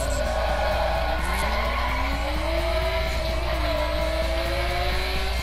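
A Nissan Skyline GTR driven in The Crew video game roars with a steady, loud engine note that rises and shifts, while tires squeal continuously throughout.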